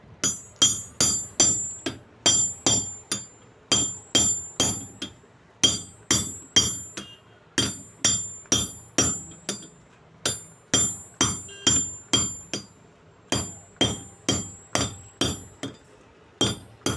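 Sharp hammer blows strike a tight bicycle bottom bracket nut to loosen it, ringing metallic hits falling in quick bursts of three to five with short gaps, close and loud, with no talking.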